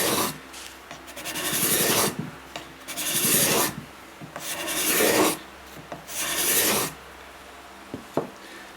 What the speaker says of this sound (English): And this is what we should be getting when using our scraper.